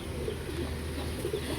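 Pigeons, a pair of adults with three young birds, coo softly and steadily in a low rolling murmur, with no voices over them.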